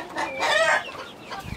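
A chicken clucks and gives a short crow-like call close by, a brief loud outburst that fades into faint scratching.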